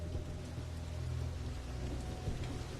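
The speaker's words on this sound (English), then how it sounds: "it started raining like hell" Dense, steady hiss of heavy rain pouring down, with a low rumbling undertone beneath it, continuous and fairly quiet overall.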